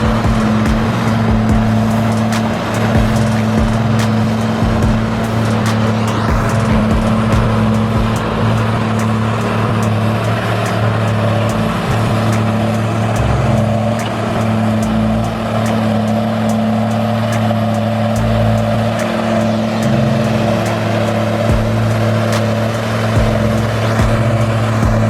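A forestry skidder's engine roars steadily and loud at close range while its grapple hauls a heavy bundle of logs, a deep continuous drone with occasional clanks and rattles over it.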